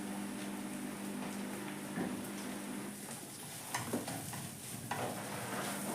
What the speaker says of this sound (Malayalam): ഇനി അതെല്ലാം ഇളക്കി യോജിപ്പിക്കട്ടെ.